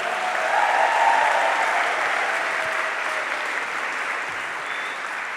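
Audience at a university graduate fashion show applauding and cheering, a dense sustained wash of clapping and whoops that swells early and holds steady, no talk over it.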